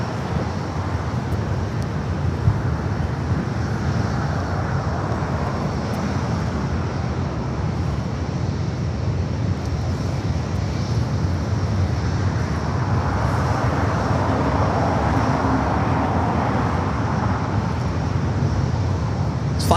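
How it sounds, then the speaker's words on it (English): An airliner arriving at LAX airport gives a steady, loud jet roar that holds evenly throughout, with a broad rushing rumble and no voices over it. "Flight coming in from Newark."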